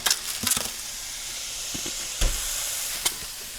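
Ground beef sizzles and hisses steadily in a hot pan while moussaka is being made, with a few louder clatters and stirring knocks from a wooden spoon rising over the continuous frying.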